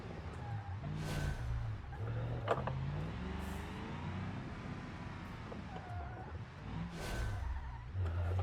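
A car in the BeamNG driving game revs and slides with faint tire skids, a steady engine drone rising and falling with brief squeals, heard quietly and fairly distant with no talk.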